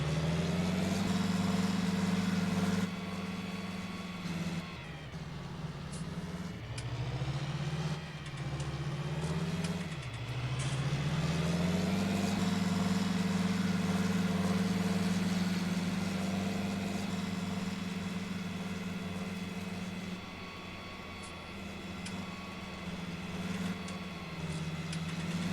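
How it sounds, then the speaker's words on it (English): Tractor engine idling in the video game Farming Simulator 19, a steady low rumble that dips and shifts pitch a few times before settling back to an even drone. "Take this tractor here."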